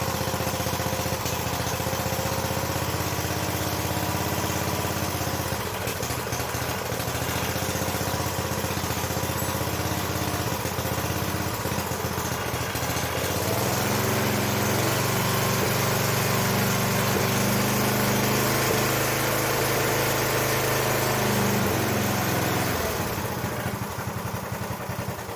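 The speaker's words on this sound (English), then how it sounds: "So here is me starting it." Sears garden tractor engine during restoration, carburetor dripping fuel, running steadily with a loud continuous buzzing drone. The pitch shifts partway through, then the tone changes near the end, and no one speaks.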